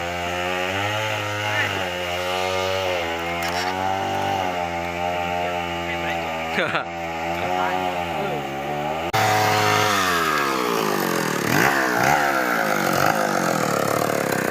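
A chainsaw saws through a large rubber-wood log for furniture timber, its engine droning loud and steady throughout with pitch dips as the chain bites, rising into a harsher, busier cutting roar in the second half.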